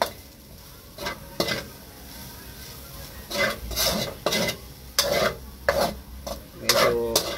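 Ground pork giniling frying in a pan for sisig, a steady low sizzle broken by repeated scraping strokes of a utensil stirring the meat, close and clear with no talking.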